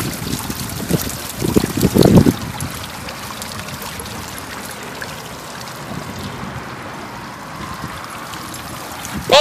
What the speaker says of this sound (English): Is that a fountain?